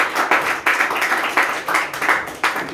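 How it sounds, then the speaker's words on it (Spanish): A church congregation claps hands together in a Spanish-language service, the rhythmic, fairly loud clapping coming in repeated bursts of hand claps for a few seconds with no talking. "Le damos una fuerte ofrenda de palmas a nuestros Dios"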